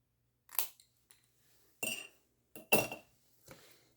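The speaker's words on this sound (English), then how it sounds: "I'm just going to cut off that little extra bit there" Scissors snipping off a small extra bit of paper during a craft project, a handful of short, crisp cuts in irregular succession, close and clear against an otherwise quiet room.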